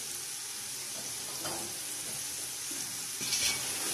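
Fried chicken pieces added to green chickpea pulao in a pot, with a steady soft sizzle and occasional stirring scrapes running throughout, moderately close.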